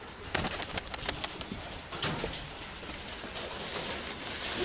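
Pigeons in a loft flap their wings in several quick bursts early on, then soft cooing and rustling continue quietly nearby.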